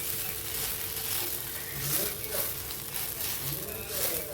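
A dhapata flatbread roasts on a hot griddle, giving a faint, soft, continuous sizzle with gentle crackles that rise and fall slightly.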